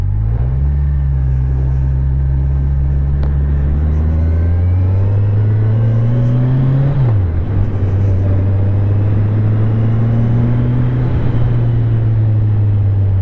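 Kawasaki Ninja 1000 SX motorcycle riding and accelerating, its engine a loud steady drone that climbs in pitch, drops sharply at a gear change, then rises again, with constant wind rush from the ride.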